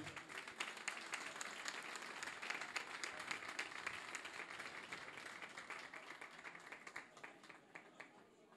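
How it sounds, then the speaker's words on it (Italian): A crowd applauds steadily, dense clapping that holds for several seconds and then slowly thins out toward the end. "Applausi."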